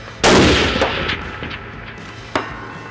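A single loud hunting rifle shot at an outdoor rifle range, with a sharp blast and a long echoing decay, followed by a fainter metallic click or thump near the end.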